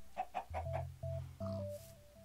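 Minecraft chickens cluck in a series of short, repeated game-sound calls, near and clear, with a pulsing synthetic tone running beneath them and no talking.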